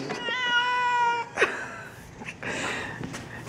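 A cat lets out a drawn-out, whiny meow close by while being held in snow, followed by some shuffling and handling noises.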